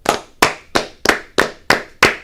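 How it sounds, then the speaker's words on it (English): Seven sharp hand claps ring out in a steady, even rhythm, each crisp and close with a short decay, alone without talk. "But Taysom Hill, 7 claps, ready."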